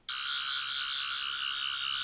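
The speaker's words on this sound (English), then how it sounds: "the sounds are activated when you pull down the sonic screwdriver like this, and you get 2 sounds" A toy sonic screwdriver of the Third Doctor from Doctor Who gives a loud, continuous high electronic warble that starts abruptly and holds steady, close and alone.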